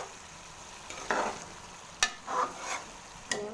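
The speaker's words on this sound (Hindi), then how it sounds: "अब इसकी हम करेंगे भुनाई।" Ginger, garlic and garam masala fried in a pan for aloo gobi salan, a soft sizzle with a few scraping stirs and sharp spoon knocks against the pan, close and fairly quiet.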